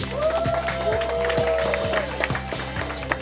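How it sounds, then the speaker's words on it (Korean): An audience at a community charity event with youth baseball teams applauds. The clapping is scattered and fairly close, with a sustained musical tone running underneath. "박수 한번 해주세요."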